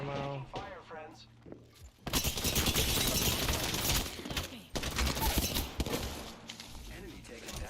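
Rapid automatic gunfire from the video game Overwatch 2 crackles in dense, loud bursts after a brief pause, with someone talking over it at the start.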